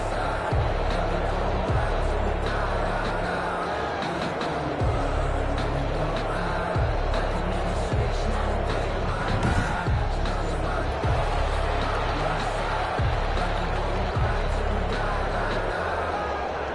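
A steady roar from the stadium crowd in a Madden NFL game between the Dallas Cowboys and Los Angeles Rams, continuous and loud, with faint commentary voices under the noise.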